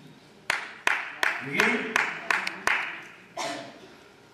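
Sharp, isolated hand claps, about eight of them in an uneven rhythm, ring out at a live 2017 comedy show while someone talks over them.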